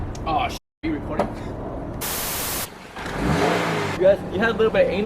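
The engine of a 2022 Subaru BRZ fitted with Tomei headers and a catless front pipe roars in two rough, hissing revs close by, with people talking around them.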